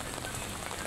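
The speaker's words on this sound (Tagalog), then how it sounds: "Ang lakas ng ulan, diba?" Heavy rain pours down in a steady, dense hiss of drops on surfaces, continuous and close for a brief moment.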